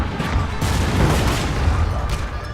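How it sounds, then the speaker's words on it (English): Artillery in a Shogun 2 Total War battle rumbles as a dense, continuous barrage of low booms and crackling volleys, loud and sustained with no voices. "Got some artillery coming in."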